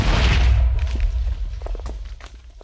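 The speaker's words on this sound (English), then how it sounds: "Their explosion will break blocks and will do damage to mobs" A rocket explosion in Minecraft with an Iron Man datapack: a loud, close burst at the start rumbles and fades, leaving scattered small crackles and thuds.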